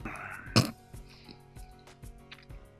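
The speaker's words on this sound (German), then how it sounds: "Ich weiß auch gar nicht, warum ich heute so viel huste." A single short, loud cough bursts out near the mic over a quiet bed of soft game sounds, followed only by faint clicks and murmurs.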